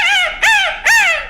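A man imitates the call of a grey junglefowl, producing two loud, rising-then-falling crowing phrases in close succession, close to the listener with no other sounds.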